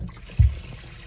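Water drains from a bathroom sink being unclogged, giving a short, low gurgling gulp in the pipe amid a faint trickle, close by and with no talking.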